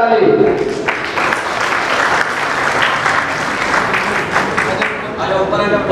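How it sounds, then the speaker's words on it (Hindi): Loud, continuous applause from an audience at a student merit award ceremony in Mumbai, a dense clatter of many hands with crowd voices mixed in, holding steady for the whole stretch. "जोरदार ताली"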